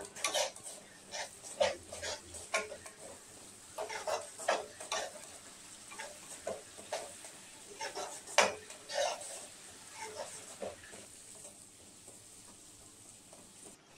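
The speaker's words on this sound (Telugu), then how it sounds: "పసుపు వేసుకొని బాగా మిక్స్ అయ్యేటట్టు బాగా కలిపేసుకోవాలి." A spoon stirs turmeric through dry prawns and okra in a pan, giving repeated scraping and clinking strokes in an uneven rhythm, close and moderately loud, with a faint sizzle underneath and no talking.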